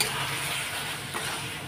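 Masala for chana dal being sautéed in a pan with water and salt added, a steady broadband sizzle with soft stirring scrapes throughout, close and continuous, no voices.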